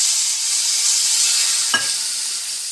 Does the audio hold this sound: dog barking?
no